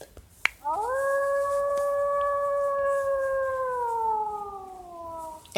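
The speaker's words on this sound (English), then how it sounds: "Wolf." A wolf howl sound effect rises after a sharp click and holds one long, steady, clear tone for about five seconds before sliding slightly downward and cutting off, loud and alone.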